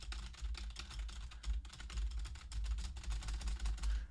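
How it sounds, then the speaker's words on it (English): Rapid typewriter-style key clacking used as entrance music for I.R.S. in the WrestleMania Steel Cage video game, a dense run of quick, fairly quiet taps continuing steadily throughout. "in the game they just made it like a typewriter"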